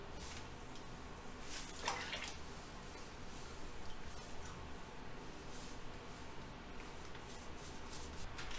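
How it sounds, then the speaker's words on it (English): Liquid pours all over thick jelly goo filling a bathtub, giving a continuous, soft, wet rushing and squishing sound that runs steadily throughout. "Go ahead and pour it in."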